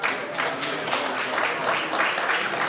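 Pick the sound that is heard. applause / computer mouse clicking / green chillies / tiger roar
applause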